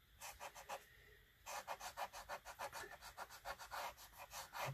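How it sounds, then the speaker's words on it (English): Cotton swabs scrub oil paint off a white gesso board in quick, rhythmic rubbing strokes, a short pause early, then a steady run of close, quiet scrubbing with no talking. "I have some Q-tips that I'm going to use to really kind of scrub back to the white"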